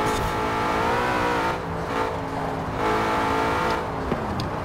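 A car engine in the Forza Horizon 4 racing game drones at high revs and drops out in sharp dips as the fuel cuts, then picks back up, loud and continuous, with no talk.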